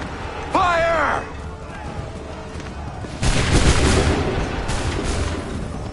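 A musket volley erupts in Assassin's Creed 3, following a shouted command, a broad rolling crackle of massed gunfire that stays loud and sustained to the end.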